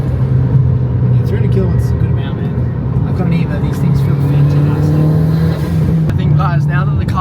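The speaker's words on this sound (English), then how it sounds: "now that the car is fully warmed up, we're hearing a lot more bangs at the back, so I think it probably is flaming" A Mitsubishi Evo 8 race car, fully warmed up and making about 300 kilowatts, drives by with a loud, rumbling exhaust and scattered sharp pops and bangs from the rear, with people talking over it.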